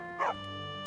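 A single short dog bark from a video game rings out once over a steady, droning game soundtrack, brief and fairly prominent.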